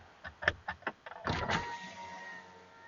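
A replacement power window motor in a Nissan Quest raising the window, a few clicks and knocks followed by a sustained whirring hum as the glass travels up, close and moderately loud.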